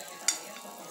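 Banana slices fry in butter in a pan, a faint steady hiss with one short sharp crackle near the start.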